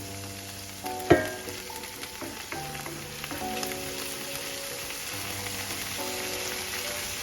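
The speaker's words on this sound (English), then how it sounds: "Looks pretty well sauteed, and it's starting to explode actually." Chopped ginger and garlic sizzle in a pan of garden-vegetable stir fry, a steady close crackle with one sharp pop early on and softer spits throughout.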